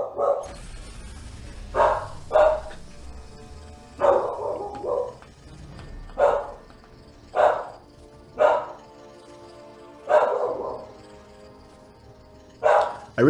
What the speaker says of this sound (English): I really hope my dog's barking because my wife is home